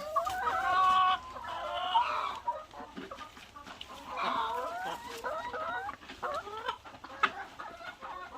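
Laying hens in a pen of about one hundred twenty birds cluck and squawk nearby in overlapping, uneven calls, loudest at the start and continuing throughout.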